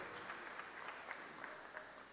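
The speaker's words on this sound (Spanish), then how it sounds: "Un aplauso, por favor, para este importante momento." Faint, distant applause rises from the audience at the closing of a formal event, a thin steady patter of clapping under a hazy room hiss.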